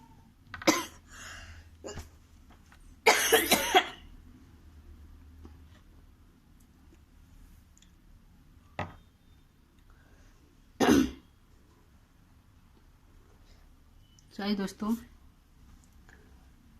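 Several separate coughs and throat clearings from a person with a sore throat break a mostly quiet stretch, sharp and close, spaced irregularly with long pauses between.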